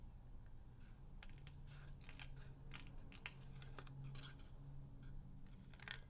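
Scissors snip through black paper to cut out small cattail shapes: soft, close crisp cuts in uneven bursts over a steady background hiss.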